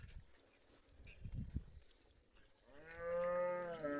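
Cattle drink water. Quiet, low slurping and shuffling sounds come first, then a single loud, drawn-out moo rises close by and holds to the end.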